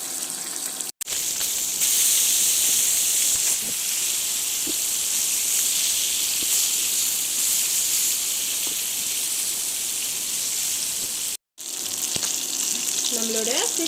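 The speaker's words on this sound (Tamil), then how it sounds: "நம்மளோட ஃபிஷ் நல்லா ஃப்ரை ஆகிடுச்சு." Fish frying in hot oil gives a loud, steady sizzling hiss that goes on throughout, broken by a couple of brief silent gaps, with no talk over it.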